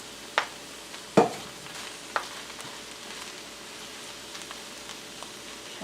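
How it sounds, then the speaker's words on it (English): Garlic, bread and an oil mixture begin sautéing in a pan on high heat, a soft steady sizzle broken by a few faint stirring clinks and taps, with no talking. "what we do is add half of the garlic and the bread and the oil mixture"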